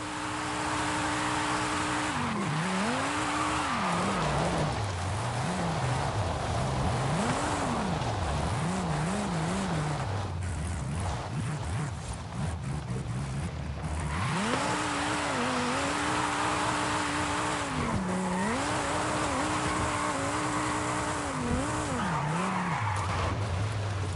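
A Dodge Viper drifting in the Forza Horizon 5 racing game, its engine revving up and down in repeated swooping waves while the tires squeal continuously through long slides, loud and sustained with a brief easing in the middle.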